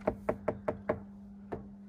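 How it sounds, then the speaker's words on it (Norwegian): Someone knocks on a garage door: five quick, evenly spaced knocks, then a single softer knock after a pause, over a steady low hum. "Vi banker på og hører."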